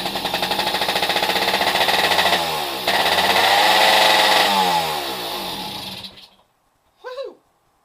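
A 1979 Kawasaki KE100 motorcycle's small engine fires and runs with a loud, close, buzzing two-stroke note that rises and falls in revs for about six seconds, then cuts out, followed by one short revving burst.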